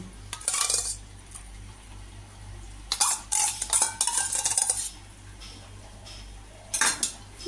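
A metal spoon scrapes and clatters against a pan while spice masala is stirred and sautéed, coming in short bursts of rattling strokes with quiet pauses between and only a faint sizzle beneath.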